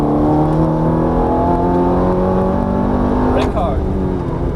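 A Ferrari F430 F1 on a racetrack at full throttle, engine droning loud and steady with rising harmonic tones, a brief sharper shift-like burst late on.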